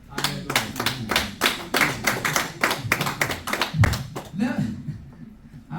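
Church congregation clapping for the apostle in a burst of sharp, rhythmic hand claps that trails off, with voices murmuring underneath.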